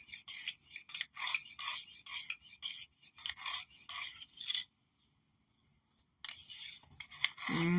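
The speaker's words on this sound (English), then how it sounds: "I'm using a Lansky system here" A Case jack knife blade being sharpened on a Lansky system stone, with a rapid series of short, close rasping strokes, a pause of near silence, then a few more strokes resuming.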